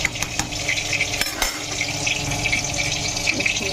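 Cauliflower florets frying in a pan for khichuri and begunis, a steady sizzle and crackle running throughout with a few sharp clinks of utensil against pan.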